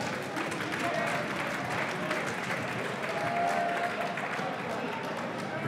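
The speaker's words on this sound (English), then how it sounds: "let's give both fighters a big round of applause" A boxing crowd claps and cheers steadily for both fighters after six rounds, a dense wash of applause filling the hall with voices mixed in throughout.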